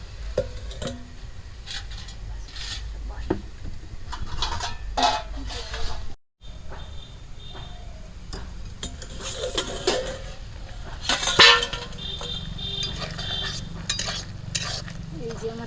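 Lata fish frying in hot oil in a pan for a spicy oil curry, a steady close sizzle with scattered clinks of a utensil against the pan and a brief pause partway through.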